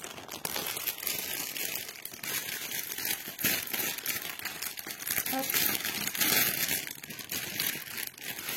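Close, loud crumpling and crinkling of packaging paper, continuous rustling with sharper crunches and tears throughout.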